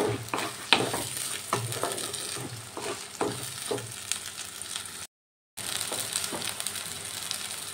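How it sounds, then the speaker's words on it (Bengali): Pea paste for kachori filling being stirred and dry-fried in a pan, with repeated scraping strokes over a steady low sizzle, a brief gap midway, then more stirring. "এরপর আমি ভালো করে নাড়াচাড়া করে নেব, শুকনো শুকনো করে ভাজতে হবে।"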